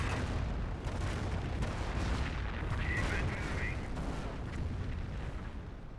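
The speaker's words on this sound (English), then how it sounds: "Calliope's barraging." Calliope rocket artillery barrage in Company of Heroes, a dense continuous roar of launches and rumbling impacts that fills the scene, with a voice talking over it.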